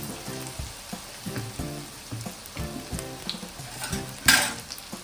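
Matar bonda, green pea fritters, frying in hot oil in a wide pan: a close, busy crackle and sizzle with rapid popping bursts, a louder spatter near the end, and no voices.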